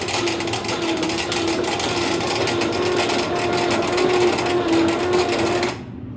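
Engine of an ancient tanker truck abandoned for over 40 years, cranking steadily with a continuous mechanical whir and rattle for about six seconds before cutting off abruptly.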